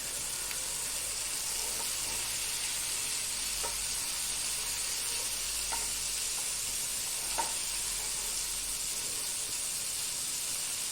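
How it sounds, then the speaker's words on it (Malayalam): Fish frying in a pan, a steady close sizzle with soft crackling and a few small pops, no voices. "മീനൊന്ന് വറുത്ത്."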